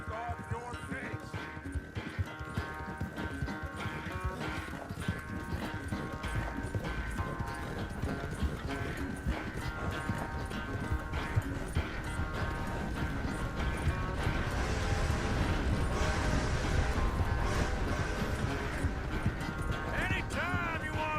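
Horse hooves clip-clop continuously in Red Dead Redemption 2, a fast, steady rhythm of ride sounds mixed with a musical score and voices throughout.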